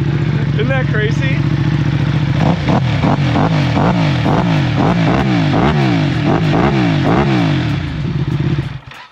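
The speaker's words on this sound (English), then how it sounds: "Go ahead and give us some revs for us," Loud, close revving from a 2024 BMW M1000R sitting in neutral: a steady idle, then a quick run of repeated throttle blips rising and falling before settling, with voices talking underneath.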